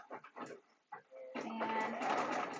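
A sewing machine back-stitching a fabric shopping bag: a sustained mechanical whir starts after a few short soft sounds and runs close and steady to the end, with no voices.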